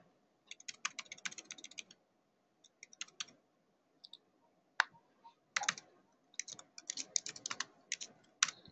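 Someone types C++ code on a computer keyboard in quick, irregular bursts of close, crisp key clicks separated by short pauses, with no talking.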